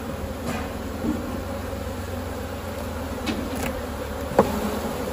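Steady, close buzzing of many honeybees at an opened hive during a February inspection fills the air, a constant drone with a few brief louder bumps.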